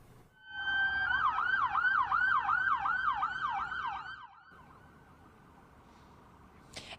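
Police escort siren wailing in a rapid up-and-down yelp as a motorcade carries returning Iowa National Guard soldiers from Sioux City, fairly close for about four seconds before cutting off and leaving quiet street ambience.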